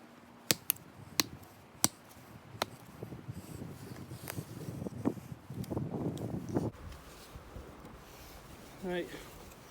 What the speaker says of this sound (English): I'll cut the V-notch in here now